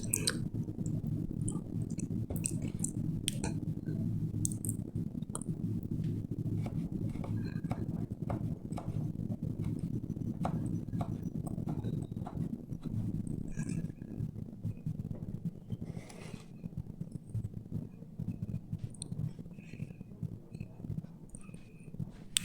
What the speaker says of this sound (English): So we need to dice it into 2 mm or rather 3 mm cubes.